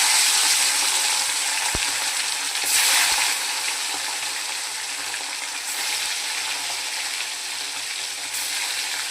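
Fish hits hot oil in a pan and sizzles, a loud, dense, continuous crackling hiss close up that swells briefly a few times, with no voices.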